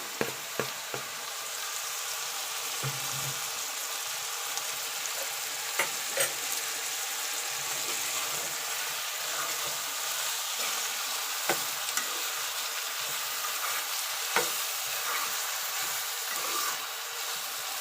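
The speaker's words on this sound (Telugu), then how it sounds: "కొద్దిగా ఆనియన్ ఫ్రై అయిన తర్వాత టమాటా వేసుకోవాలి" Chopped onion and tomato frying in a pan, a loud, continuous sizzle with scattered crackles and scraping stirs, sustained evenly for the whole stretch with no talking.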